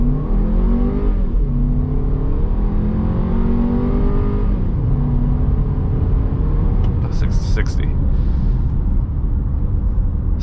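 A 2021 Audi Q3 Premium in sport mode accelerates at full throttle from 0 to 60, heard from inside the cabin: engine drone climbs in pitch, drops at a gear shift, then climbs again, loud and continuous.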